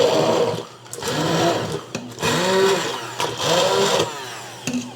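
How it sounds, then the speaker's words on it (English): A motorized stick blender whirs in uneven bursts, its pitch rising and dipping as it purees cooked apples into applesauce, with brief pauses between runs. "I've got my stick blender out, and I'm just gonna get this all nice and soft"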